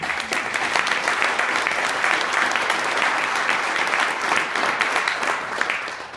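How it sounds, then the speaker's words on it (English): Sustained applause from an audience honoring apprentices at a 2015 apprenticeship program graduation, dense and steady throughout at close range, with no talking over it. "so I'd like to give another round of applause for them."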